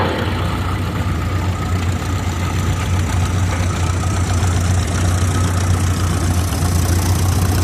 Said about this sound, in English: This is a 1948 John Deere Model G, owned by the Davis family.